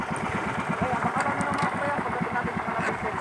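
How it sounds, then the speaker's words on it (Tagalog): A faulty boat engine chugs unevenly at sea, a rapid knocking mid-pitched rumble running steadily and fairly close throughout. "Ibang tunog. Nagka-abirya ang aming isang bangka."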